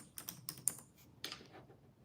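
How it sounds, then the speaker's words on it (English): Someone types on a computer keyboard nearby in quick, uneven bursts of clicking keystrokes, with no talking. "if you see me typing in between"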